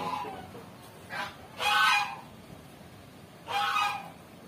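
Geese or ducks on an integrated farm keeping cattle, goats and sheep give three loud honking bursts, rising and spaced apart, close by with quiet farm background between calls.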